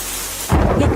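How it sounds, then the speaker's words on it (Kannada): Rain with thunder in a Kannada film scene: a steady wash of rain, then a sudden deep rumble of thunder rolling in halfway through, loud and close. "ಅಯ್ಯೋ ದೇವ್ರೆ, ಮಳೆ ಬರ್ತಾ ಇದೆ."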